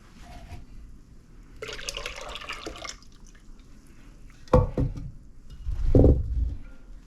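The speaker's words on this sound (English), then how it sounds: "So we'll just pour all the juices in here." Green juices are tipped into a large mixing container in two bursts of splashing and gurgling, with quiet drips between, close by in a kitchen.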